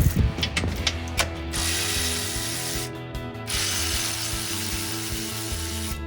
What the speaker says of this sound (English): Next, you're going to be removing these 2 bolts for the same reason.